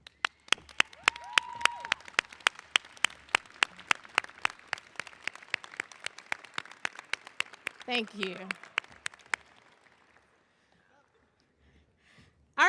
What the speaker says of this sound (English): give your supporters a round of applause